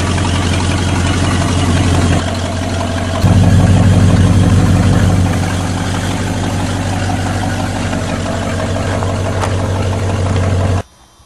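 A 1985 Oldsmobile engine runs steadily with a low, even drone, swelling slightly in a brief rev before settling back to a smooth idle, then cutting off at the end.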